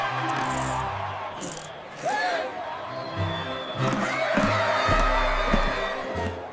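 Animated crowd of citizens cheering and whooping as the first cars cross a new rainbow-colored bridge, a busy mix of voices with scattered shouts, steady and moderately loud throughout.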